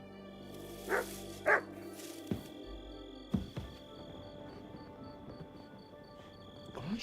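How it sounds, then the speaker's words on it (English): A dog barks in a video game, two short barks close by, then a few softer yips and thumps against a faint steady background hum. "Get out of here, mutt. No one wants to hear your barking."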